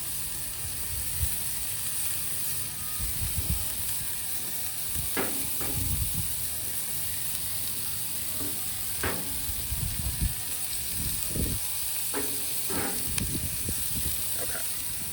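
Onions sizzle steadily on a 28-inch Blackstone griddle, a constant faint frying hiss broken by scattered clicks and scrapes of a spatula on the flat top, with no voices.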